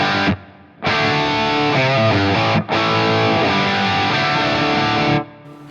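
Overdriven electric guitar strums held chords through a Fractal AX8 London plate reverb, smooth and shimmering, the tail briefly sustaining after each chord stops.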